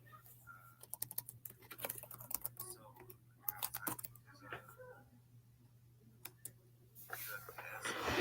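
Computer keyboard typing in quick bursts of clicks, moderately close and fairly quiet, with a steady low hum running underneath the whole time.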